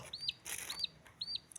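Chicks, some of them disabled, give three short, high chirping peeps spaced evenly apart, faint and close over light background rustle.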